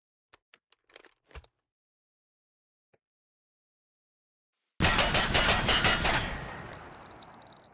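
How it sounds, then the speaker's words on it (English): Rapid automatic shotgun fire from the TaCZ video game, a loud continuous burst of blasts lasting about a second and a half, then ringing out into a fading tail, after a few faint clicks and taps. "It's an automatic shotgun."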